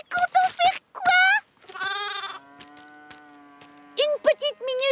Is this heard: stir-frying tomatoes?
no